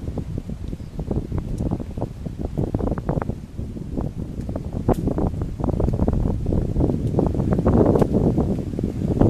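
Steady gusty wind with rain on a mountain trail in Jamaica's Blue Mountains buffeting the microphone, a rough rumbling roar with rustling, continuous throughout and fairly loud, with no voices.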